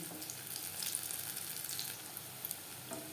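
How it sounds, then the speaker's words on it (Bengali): Onion and cabbage pakoras fry in hot oil in a kadai over a medium flame, a soft, continuous bubbling sizzle with faint crackles and no voices. "পাকোড়া ভাজবো মিডিয়াম ফ্লেমে।"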